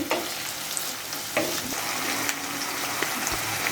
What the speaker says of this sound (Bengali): আদা রসুন পেস্ট করা দিয়ে দিই, ভালো করে আবার নেড়ে নিচ্ছি।